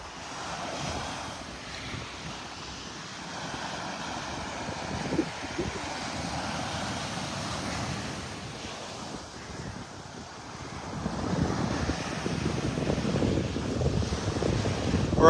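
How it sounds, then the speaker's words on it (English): A breeze blows across a beach at Delnor-Wiggins Pass State Park in North Naples, Florida, with steady wind rumble and soft surf washing in, swelling louder toward the end, no voices. "Nice little breeze coming out of the southwest"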